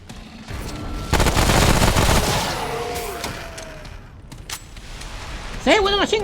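Rapid machine gun fire during combat in the video game Remnant: From the Ashes, a dense loud burst mixed with other game sounds and chatter, ending with short whooshing effects.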